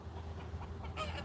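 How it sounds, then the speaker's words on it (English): Turkeys and home-hatched chickens on a farm make soft, overlapping clucks and gobbling calls at a moderate distance over a steady low background hum. "I think most of them are turkeys. Might be a few chickens mixed in."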